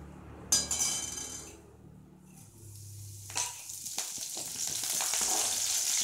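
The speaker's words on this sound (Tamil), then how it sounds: "பட்டை அதை போட்டுடலாம். போட்டுட்டு அது பொரிஞ்சதுக்கப்புறமா இந்த கருவேப்பிலையை போட்டுடலாம்." Cinnamon and curry leaves hit hot oil in a pan with a sharp burst of sizzling and spattering, followed by a clink of utensil and a steady, lively frying hiss that builds toward the end.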